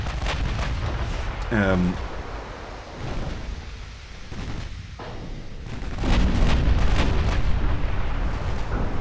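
Naval battle in the game Ultimate Admiral Dreadnoughts, with repeated booming gunfire and shell hits over a constant rumbling sea and engine bed, a loud, dense barrage building toward the end; a voice talks briefly over it.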